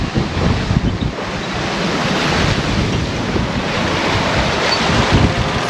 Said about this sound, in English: So it's blowing quite a lot for us now. Yeah, gusting maybe 30.